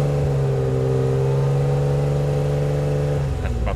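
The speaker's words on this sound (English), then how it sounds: "I'm just gonna rev it up a little bit." A cold 1979 Porsche 930 Turbo engine held at a steady raised speed, around 3,000 RPM, with a strong continuous drone and layered harmonics, then easing off near the end; no one talks.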